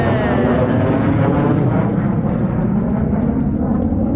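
A loud, continuous low roar of a military jet passing overhead near Davis-Monthan Air Force Base in Tucson, rumbling steadily throughout with no voices.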